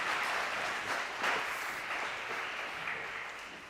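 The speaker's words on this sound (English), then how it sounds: "please, ladies and gentlemen, join me in a round of applause for Cecily." An audience at the Oxford Union applauds, a soft, distant, continuous patter of many hands that swells briefly and then gradually fades.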